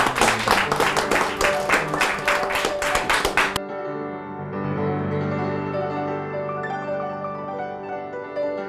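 A crowd claps in steady, rhythmic unison over music for about three and a half seconds. The clapping then stops abruptly and the music carries on alone.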